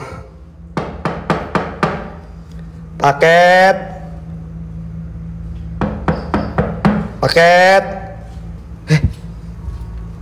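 Knocking on a toilet door in a supposedly haunted house on a full-moon night: a close, sharp series of five raps, a pause, then another run of knocks, with people talking in between.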